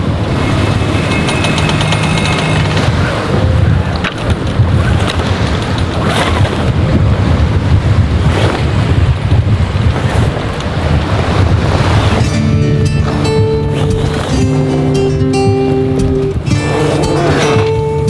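Ocean waves slosh and rush steadily around a sailboat at anchor, loud and close with heavy wind noise on the microphone, and a faint musical tone joins partway through.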